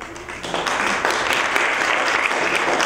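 An audience at a candidate forum in a library applauds, a full steady round of clapping that rises after a brief softer start and keeps going.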